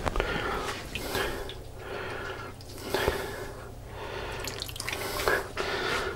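Water poured from a tap into a pot of zucchini pickles, a steady trickling and splashing stream with small drips, close and moderately loud with no talk.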